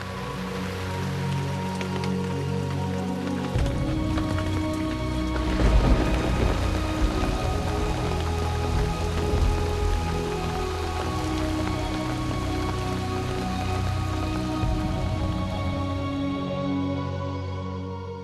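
Monsoon rain falls on the rice fields of Someshwar Valley in Kumaon, a steady close patter of drops on surfaces with a heavier swell of rain midway and low rumbling beneath.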